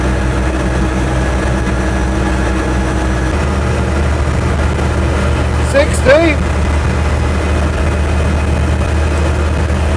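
An Invacar three-wheeler, registration TWC 725K, drones steadily and loudly as it climbs a hill at speed, with a brief vocal sound rising over the engine midway.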